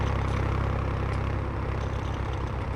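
A tractor engine in Farming Simulator 19 idles with a steady, loud low-pitched drone and a faint rhythmic clatter, continuous throughout with no voices.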